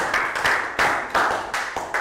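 Children in a Year 3 English class give a short round of applause: a handful of sharp, uneven claps in quick bursts, fairly close and moderately loud.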